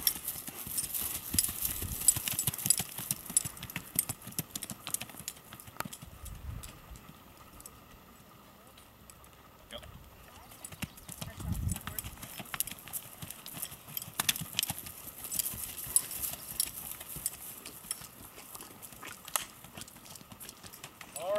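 A Missouri Foxtrotter mare's hooves clip-clop in a rhythmic three-beat canter on the ground, rising and fading as she passes, fairly faint.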